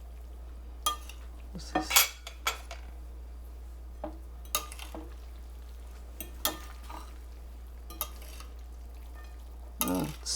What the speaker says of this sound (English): now we'll toss it and cook the eggs some more